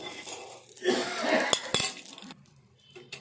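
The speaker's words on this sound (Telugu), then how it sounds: "కొంచెం చల్లగా అయినాక మిర్చిని మిక్సీ జార్లో వేసుకొని" Cooled roasted green chillies for Telangana green chilli pickle being dropped into a steel mixer jar, with a few close metallic clinks and taps in a short burst, then quiet.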